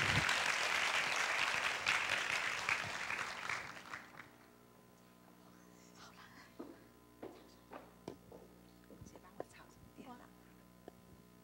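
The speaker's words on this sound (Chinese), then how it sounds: "那我们现在掌声热烈欢迎陈文茜教授" An audience at a university lecture applauding to welcome a professor, with loud, dense clapping that fades after about four seconds into scattered claps and quiet murmuring.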